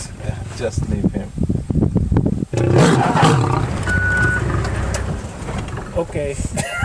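A bobcat caught in a coyote trap snarls and growls in harsh, loud bursts while people talk close by.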